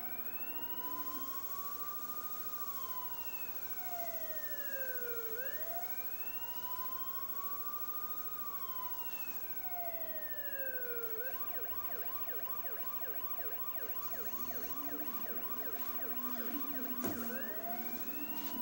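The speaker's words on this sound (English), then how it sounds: "That was my siren that you've just been hearing." A police siren wails in long rising and falling sweeps, then switches to a rapid yelp, loud and continuous with engine rumble underneath.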